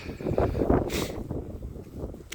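Gusty winter wind in Dnipro, Ukraine, buffets the microphone with a low rumble, and a brief hissing burst cuts in near the middle.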